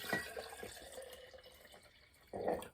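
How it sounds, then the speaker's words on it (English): Water is poured from a container into a glass jar while making feta cheese, a close splashing trickle at the start, then quieter, with a brief stronger gush near the end. "I'm going to pour 1/2 of this water in there."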